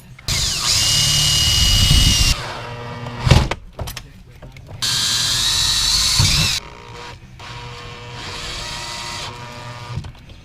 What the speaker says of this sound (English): We're gonna drill and install 2 screws.